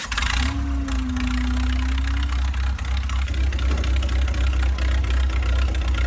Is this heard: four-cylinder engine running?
yes